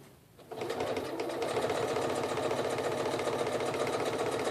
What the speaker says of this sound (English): So as you can see, it's sewing it right along.